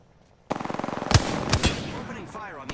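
Automatic gunfire from an Apex Legends match rattles in a rapid, steady burst of shots, with a few louder heavier bangs cutting through partway and a final sharp crack near the end.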